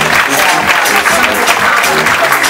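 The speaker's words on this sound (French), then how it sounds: "Vos applaudissements, s'il vous plaît." Audience at an honorary ceremony for a fourth-edition event applauds, with dense, steady clapping filling the whole stretch and a faint crowd murmur beneath.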